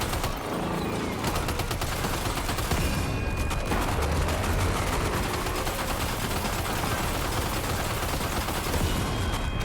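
Heavy automatic gunfire in the video game Death Stranding 2 hammers on without letup, rapid rhythmic bursts layered into a loud, dense, close barrage throughout.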